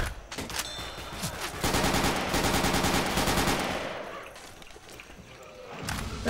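Gunfire in Left 4 Dead 2 rattles in sustained automatic bursts. Rapid shots pile into a dense, loud barrage before tapering into scattered thuds.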